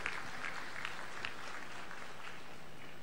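A crowd at a public event in Hoshangabad applauds to welcome the chief minister, with steady, dense clapping that holds at an even level throughout.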